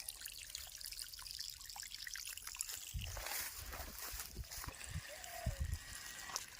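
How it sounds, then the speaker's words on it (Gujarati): Quiet trickle of water flowing from a pipe on a farm, turning to irregular splashing and gurgling as the pressure picks up, heard faintly from close by. "પાણી ચાલુ થઈ ગયું છે."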